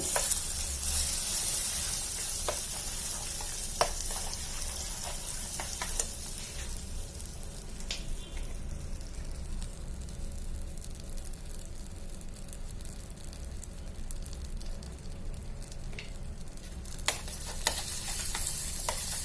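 A tablespoon of butter sizzles in caramelized sugar for a caramel coffee cake, a steady soft hiss under occasional sharp clicks and scrapes of a spoon stirring in the pan.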